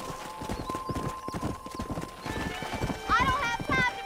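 Horse hooves clip-clop steadily in the Red Dead Redemption western video game, with a horse whinnying near the end and voices talking over the hoofbeats throughout.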